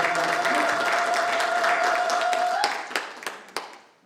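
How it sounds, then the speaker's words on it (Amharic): A church congregation claps together in sustained, dense applause that carries evenly for several seconds, then thins out to a few scattered, louder claps before fading away. "አጨብጭቡለት ለጌታ።"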